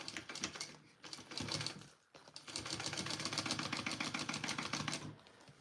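A sewing machine stitches the lining of a clutch wallet, running in a steady rapid patter for two stretches with a short pause between, close and moderately loud with no talk.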